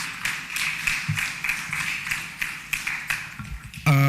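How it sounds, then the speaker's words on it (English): Applause from a conference audience honouring Professor Falola, heard as a steady run of quick claps held at moderate distance for about four seconds before an abrupt louder tone cuts in at the end. "Please let's give Professor Falola another round of applause."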